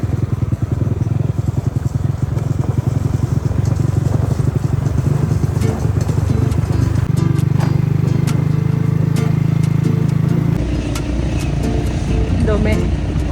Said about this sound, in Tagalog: Engine brake lang.